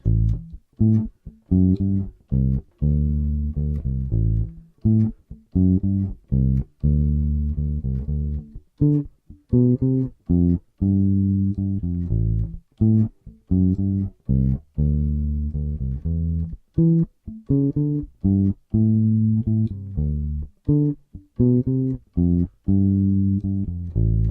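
A bass guitar plays a repeating blues riff, steady plucked low notes in a looping sequence, clear and close with no talking.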